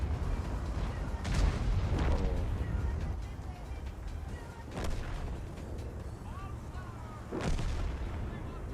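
Heavy tank guns firing in World of Tanks, a WZ-111 5A match, with a few deep booming shots spaced seconds apart over a steady rumbling battle background.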